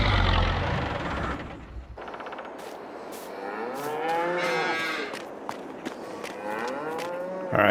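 Cattle low and moo in Farming Simulator 22 on PS5, set on an old Polish farm: several drawn-out, rising-and-falling calls follow one another over a low machine hum, fairly close and clear.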